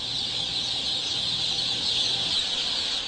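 Dense, continuous peeping of many chicks inside a large poultry house holding thousands of birds, a steady high-pitched chorus with no pauses and no talking.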